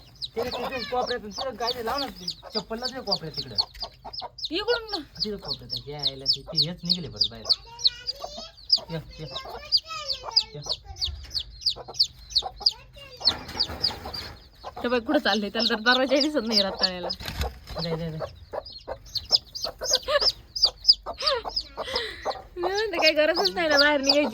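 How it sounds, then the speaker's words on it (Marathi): Several baby chicks that have slipped out cheep in rapid, high, repeated peeps, close and near-continuous, while household voices talk over and between them throughout. "दोन पिल्ले इकडे बाहेर निघाले"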